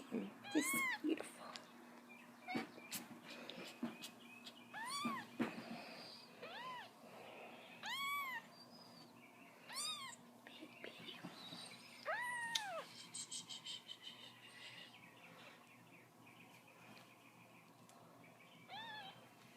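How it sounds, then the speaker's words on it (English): Newborn kitten meowing repeatedly, a series of thin, high, rising and falling cries spaced every second or two, close and fairly loud against a quiet indoor background. "Beautiful little kitten."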